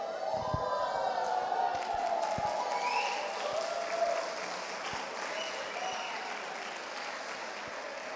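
Church congregation applauding, a dense, steady wash of clapping from a crowd filling the room, with a few scattered voices and cheers mixed in.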